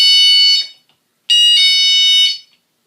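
A Techko S184S door alarm sounds two loud, piercing electronic shrieks up close, a short burst followed after a pause by a longer one.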